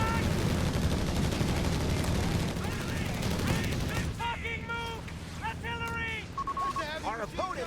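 Machine-gun barrage fire from a captain's ability rumbles through a World War II tank battle in a video game: a dense, continuous roar of shots and explosions that thins out in the second half.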